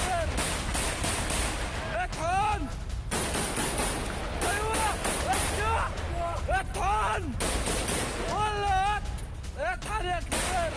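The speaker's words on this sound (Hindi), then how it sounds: "हमास समर्थकों ने आईडीएफ पर की फायरिंग" Gunfire from Hamas supporters aimed at IDF troops in news footage from the Jenin area of the West Bank: repeated loud shots crackle throughout, with voices shouting over the firing.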